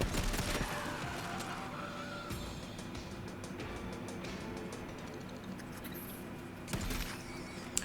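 Gunfire from shooting enemies in the game Shadow Warrior 3: rapid, sharp shots in quick bursts over a busy background of game noise, loud at first, thinning out, then a renewed cluster of blasts near the end.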